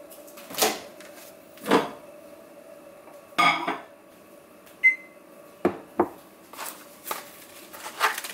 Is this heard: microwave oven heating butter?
yes